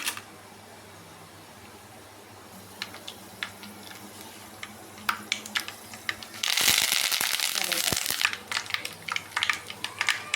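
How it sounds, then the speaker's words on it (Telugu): Tempering seeds and dried red chillies fry in hot oil for a gherkin and coconut curry. Sharp crackles and pops begin sparsely, then burst into a loud, dense sizzle about midway. "తాలింపు గింజలు వేసుకుంటాం తాలింపు కొంచెం ఎక్కువగా వేసుకుంటేనే బాగుంటుంది"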